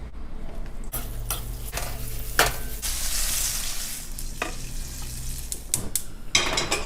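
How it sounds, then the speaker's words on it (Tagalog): Steady hot-oil sizzling of cornstarch-coated pork frying in a pan, with occasional scrapes and clinks of a utensil stirring against the pan. "prito na natin"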